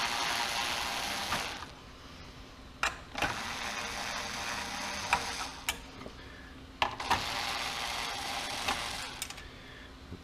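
Screws are worked out of a 1966 Chevrolet Impala SS dash instrument cluster, giving repeated close ratcheting, clicking bursts in several runs with sharp snaps between them.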